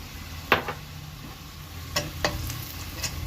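Onions and spice powder of chilli, turmeric and coriander frying in a pan, a steady soft sizzle broken by a few sharp clicks and scrapes of a spoon against the pan.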